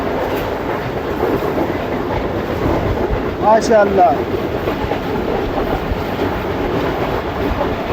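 The Tezgam 8 Down passenger train runs on its tracks with a loud, steady rumble and clickety-clack from the rails. Someone speaks briefly about halfway through and a short squeal rises above the din.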